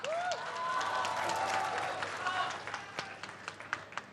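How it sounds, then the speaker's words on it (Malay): A crowd claps at a community forum on technical and vocational training. The sound starts as a thick, steady wash of hands after a short vocal sound, then thins out into scattered, separate claps near the end. "Tepukan untuk Kolej Perda."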